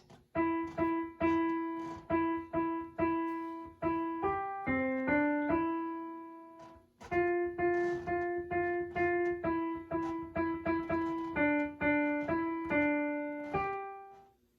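A solo piano plays the Jingle Bells melody note by note at a steady pace, with a short pause midway before the tune repeats.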